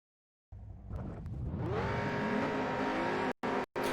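A stock Dodge Viper races in the video game Juiced, its engine starting in and then holding a loud, steady roar with rising harmonic pitch, briefly cut by two sharp dropouts near the end.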